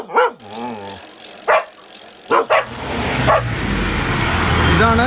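A pack of street dogs barks in short sharp bursts along a road at Choolissery in Avanoor panchayat, Thrissur, with about five loud nearby barks over a rising wash of passing traffic.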